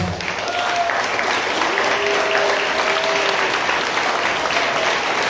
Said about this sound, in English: We give a round of applause for everyone.